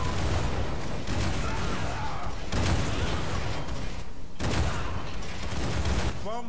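Dense, continuous gunfire and blasts from a bombard unit under attack in the dungeon strategy game War for the Overworld, loud and unbroken throughout, with a few heavier crashing bursts.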